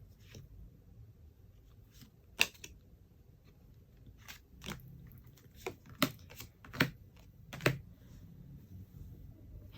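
A tarot card is drawn from the deck, with a handful of soft sliding rustles and sharp little snaps of card stock. The sounds are close and quiet, spaced irregularly across a hushed background.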